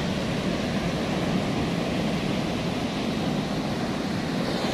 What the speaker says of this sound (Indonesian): Memang di sini besar-besar ombak ini, ya